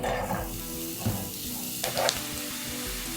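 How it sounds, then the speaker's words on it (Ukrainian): Sunflower oil sizzles steadily in a frying pan as onions fry until translucent, with a couple of brief stirring scrapes and clinks; close and continuous, no voices. "На сковорідку вливаю олію і спочатку до прозорості обсмажую цибульку"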